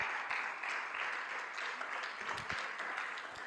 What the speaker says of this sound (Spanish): Démosle esa ofrenda de palmas al Rey.